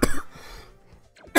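A man gives two harsh, close coughs, one at the start and one at the end, separated by a short quiet gap.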